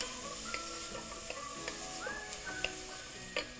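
Garlic and ginger are stirred and sautéed in a pan for broccoli soup, producing a soft continuous sizzle with light spoon scrapes and occasional taps on the pan.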